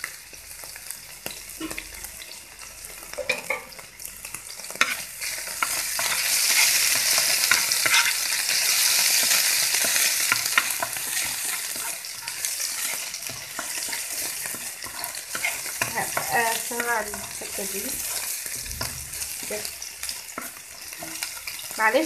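Garlic frying in a pan with a steady close sizzle and stirring scrapes, the sizzle swelling louder as vinegar is poured in, then settling into continuous frying; no talking.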